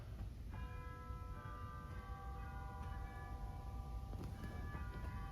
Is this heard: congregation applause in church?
no